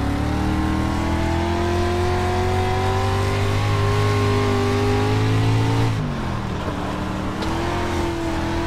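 C-class dirt street stock race cars on the last lap at Volusia Speedway Park, a loud continuous engine drone with rising pitch, then a downshift and a passing swell, no talking.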